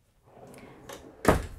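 A kitchen drawer in a 2021 Outdoors RV Back Country 20BD travel trailer slides along its track with light rattles and then shuts with one solid thunk, nearby and with no talking.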